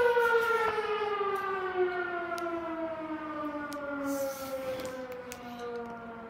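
A civil defense siren wails alone, a long sustained tone slowly sliding downward in pitch, loud and steady with a distant, open-air quality.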